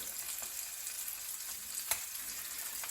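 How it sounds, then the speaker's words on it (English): Hake fillet pan-fries in butter with a soft, steady sizzle and faint crackling pops, low in level and heard alone. "So our fish is cooking nicely now in our butter."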